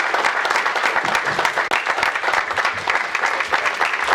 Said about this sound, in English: if everyone would join me in a round of applause for what these young men do